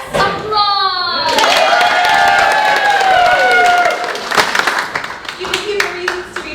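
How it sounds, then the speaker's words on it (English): Enthusiastic theatre audience applause and cheering rise at a play, with whistling tones layered over it, then the clapping fades into scattered claps as the noise settles. "Applause!"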